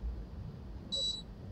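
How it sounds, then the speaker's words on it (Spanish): An air conditioner gives a single short electronic beep, high-pitched and lasting about a third of a second, over a quiet room hum with no talking. "se ha escuchado un pitido porque tengo que apagar el aire."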